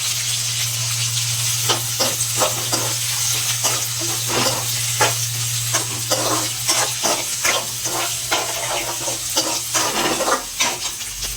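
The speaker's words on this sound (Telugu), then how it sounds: "ఇందులోనే ఇప్పుడు ఉల్లిగడ్డ కూడా వేసి వేయించాలి" Onions fry in oil for a chilli chicken curry, a steady loud sizzle broken by repeated spatula scrapes and stirring knocks, with a constant low hum underneath and no voices.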